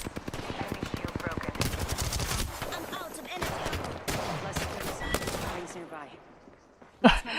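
Rapid automatic gunfire rattles in bursts in the video game Apex Legends, loud and close for several seconds before thinning out, with a sharp burst near the end and voices talking underneath.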